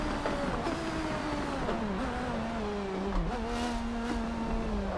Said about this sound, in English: Aston Martins do sound nasty